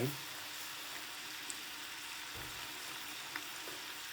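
Bell peppers heating in a pan give a soft, even frying hiss throughout, moderately close, with a faint tap or two of utensils and no clear talk over it.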